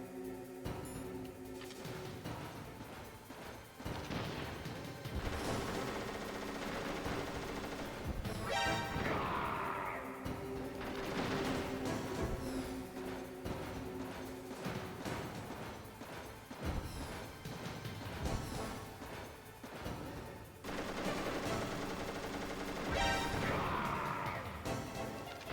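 Missiles fired and exploding in the video game Metal Gear Solid, with loud recurring crashing blasts and whooshing bursts spread through a busy game mix.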